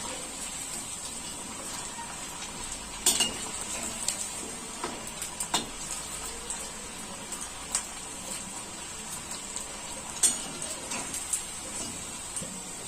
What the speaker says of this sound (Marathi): आपल्याला ह्या तळताना गॅसची फ्लेम मोठीच ठेवायची आहे आणि हे आपल्याला असे तांबूस कलरवर तळून घ्यायचे ते